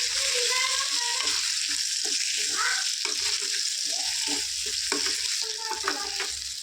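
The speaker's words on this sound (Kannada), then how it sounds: "ಚೆನ್ನಾಗಿ ಫ್ರೈ ಮಾಡ್ಕೋಬೇಕು ಆಲೂಗಡ್ಡೆನ ಎಣ್ಣೆಲೆ" Potato pieces fry in spiced oil for aloo biryani, a loud continuous sizzle broken by scraping and stirring noises close by. No one speaks over it.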